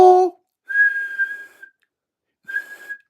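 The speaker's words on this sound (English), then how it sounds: "I can't whistle." A person attempting to whistle produces two thin, breathy whistled tones, a longer one then a shorter one, close to the microphone, following a brief burst of voice.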